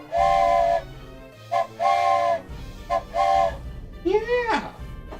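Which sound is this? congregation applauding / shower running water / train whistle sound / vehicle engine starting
train whistle sound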